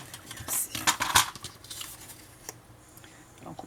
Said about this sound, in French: Donc là, je vais couper les coins.